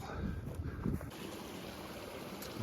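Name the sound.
creek water flowing at Willow Creek crossing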